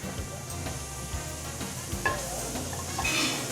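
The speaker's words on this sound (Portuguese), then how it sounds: "Voltando para aquela panela que aparentemente ia estar queimada, vamos deglaçar o fundo dela." A scorched pan being deglazed with a splash of water, a close, steady sizzle with stirring scrapes and a brief clatter of cookware.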